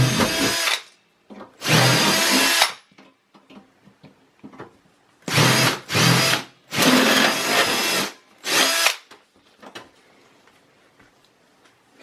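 A power drill whirs in repeated short bursts separated by quiet pauses, driving screws at close range while removing the hard drive cage from a Dell Precision Optiplex computer.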